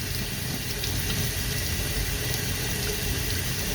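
Tap water runs steadily into a sink while an inkjet printhead from an HP Photosmart printer is rinsed under it, producing a continuous, even hiss and splash with no voices.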